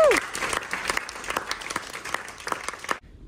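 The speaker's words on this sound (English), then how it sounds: "So can we get a round of applause for Sister April, please?" Applause from a seminar audience at a youth leadership course in Singapore, dense clapping filling about three seconds before cutting off abruptly.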